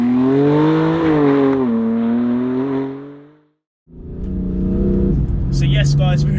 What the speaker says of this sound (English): we're gonna jump in the car and go for a drive.